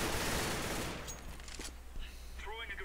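A short burst of rapid gunfire from the game CS:GO opens loud and dense, then fades within about a second, leaving faint clicks and a brief voice near the end.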